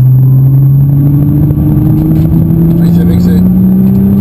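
A car engine holds a steady droning hum that rises slowly in pitch as the car speeds up to overtake another car, with people talking close by over it.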